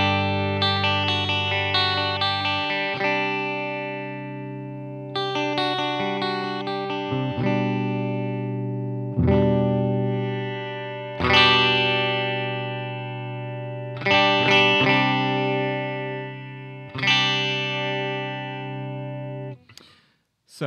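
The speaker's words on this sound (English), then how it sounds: "if I start moving the return balance up and down, you'll hear the tilt EQ effect." A distorted electric guitar runs through an XO variable crossover pedal, its tilt EQ sweeping the tone as sustained chords and note runs ring out in repeated phrases, loud and alone with no talking.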